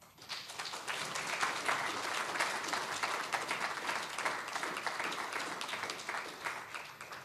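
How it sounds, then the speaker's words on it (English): Audience applause for panelists at a plenary conference session, a dense, sustained wash of many hands clapping at steady loudness for several seconds, heard alone with no talk over it. "So please give them a round of applause"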